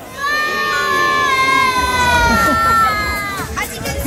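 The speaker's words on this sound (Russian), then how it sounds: "поэтому сейчас на 3-4 все кричим сыр" A crowd of children at a New Year celebration with Ded Moroz and Snegurochka in Kazan shouting a word together in unison, a loud rising chorus of voices that trails into scattered cheering and chatter.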